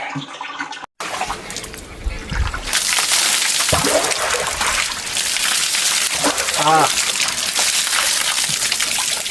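Water gushes and sloshes near the mic during a bath from a small water tank, steady and loud through most of the stretch after a brief quiet start, with splashes and a voice speaking over it.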